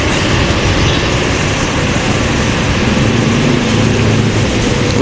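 A Garuda Mas intercity bus pulls out of Poris bus terminal with a loud, steady engine roar and broad road rumble that fill the whole stretch without a break.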